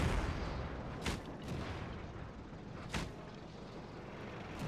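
Tank cannons fire in the World of Tanks video game, two heavy booming shots a couple of seconds apart over a constant low rumble of engines and battle noise.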